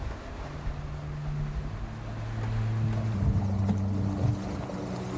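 A sailboat moves through waves in an archipelago, giving a low, rumbling wash of water and wind against the hull that swells louder partway through, with steady hull and rigging hum and no voices.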